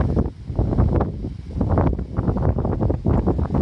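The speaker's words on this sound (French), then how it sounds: "il reste un peu de vent, je sais pas si vous l'entendez" Strong wind buffets the microphone in continuous rumbling gusts, loud and close, with no other sounds.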